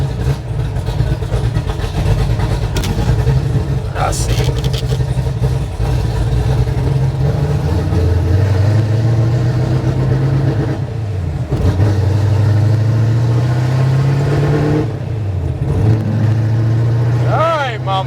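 A 1969 Plymouth Road Runner with a 660-horsepower Mopar V8 and four-speed rumbles loudly and steadily, its revs rising and easing in long sweeps, while people talk over the engine throughout.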